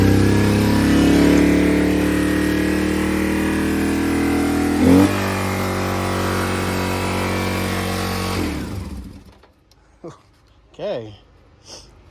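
A BMW R1150GS project motorcycle engine runs loud and steady, rising in a brief rev midway, then cuts off abruptly; a few short voice sounds follow in the quiet afterward.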